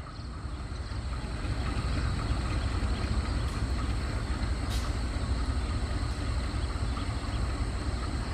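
The Garut Cibatuan local train passes Pasir Jengkol station with a loud, sustained rumble and rattle of rail cars that holds steady throughout, close by.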